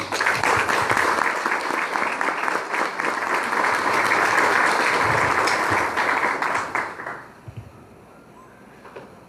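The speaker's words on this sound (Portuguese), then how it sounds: "e Ana Maria de Brito, para quem peço vossas salvas de palmas." Audience applause at a priest's book launch, dense and sustained for about seven seconds before dying away into a few scattered claps and quiet.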